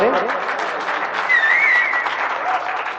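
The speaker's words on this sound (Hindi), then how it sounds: "एक बार तालियों से उनका इस्तकबाल करें।" An audience at a poetry gathering breaks into sustained applause, steady clapping filling the room, with a whistle rising briefly over it.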